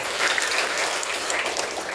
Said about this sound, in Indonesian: Berarti tepuk tangan buat kita semua.